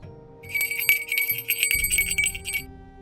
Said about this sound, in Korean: 우리들이 온 쪽과는 반대쪽에 있는 울타리에서 무서운 기세로 종소리가 울렸습니다